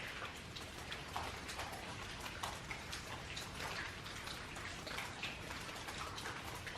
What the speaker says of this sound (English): See the drizzle coming in up there.